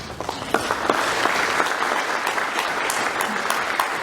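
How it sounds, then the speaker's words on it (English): Steady, dense applause from a ceremony audience at a Congressional Gold Medal award event honoring Chinese American World War II veterans, with many hands clapping continuously at an even level and light talk faintly underneath. "you need to give yourself an applause right now"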